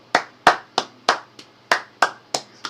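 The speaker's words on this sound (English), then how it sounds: "Round of applause." Hands clapping in a steady, spaced rhythm, about eight or nine sharp claps in under three seconds, close and clear with no voices.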